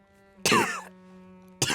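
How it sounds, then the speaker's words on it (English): Two sharp, harsh coughs, one followed by a short pause and then another beginning, over a steady low electronic hum, from the video game The Long Dark. "That cough."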